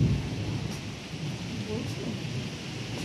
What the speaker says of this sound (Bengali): মেঘ ডাকছে জোরে জোরে,